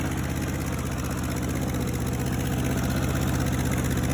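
A worn-out Ford 8N tractor engine runs steadily, a close, loud, evenly pulsing idle-like chug with a rough mechanical rattle and no talk.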